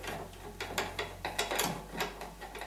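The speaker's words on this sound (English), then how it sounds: "I'm going to undo the mounting screws down here" Mounting screws of a bathroom wall switch being undone, with quick clicking and ratcheting taps in a steady rhythm, close but quiet over a low hum.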